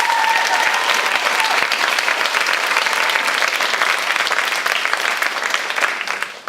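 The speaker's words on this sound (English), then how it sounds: "I think that in itself deserves a round of applause" Sustained loud audience applause for guest poets from Chicago on stage at a poetry slam event, dense steady clapping that fades slightly at the end.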